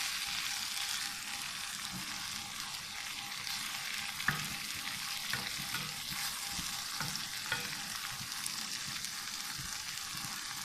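Green onions are stirred into frying chicken jalfrezi, with a constant close sizzle and soft repeated scraping of the spoon in the pan, plus a few light knocks against the pan.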